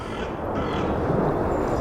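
A crow caws with harsh, rasping calls over steady broadband outdoor noise, the calls blending into a continuous loud wash with no clear gaps between them.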